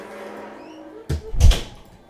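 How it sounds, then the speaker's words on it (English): A door swings and slams shut in a room with a soft background hum, giving a sharp thud and then a heavier, louder bang close by. "Who shut that door?"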